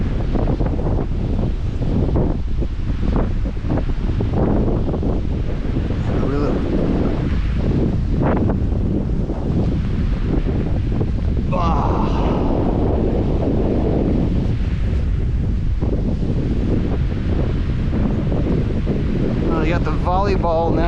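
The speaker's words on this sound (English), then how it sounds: "You better account for the wind." Strong wind buffeting the microphone on an ocean beach, steady and loud with surf rumbling underneath and a person speaking over it.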